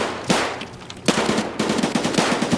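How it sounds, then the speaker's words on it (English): Gunfire from a pistol in the video game Escape From Tarkov, with a few separate shots early on and then a quick run of repeated cracks against steady background noise. "That was a pistol."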